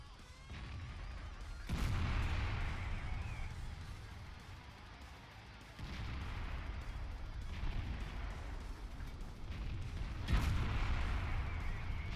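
Tank battle in the World of Tanks video game, with an FV215b taking shell hits from a Jagdpanzer E100 and firing back: three heavy booming cannon and impact blasts burst out over a continuous low rumbling engine and battlefield drone.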